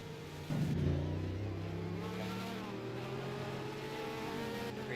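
Race cars in a Hoosier Tire GP GTI feature roar around the track, several engines droning and shifting pitch together as the pack passes, steady and fairly close throughout.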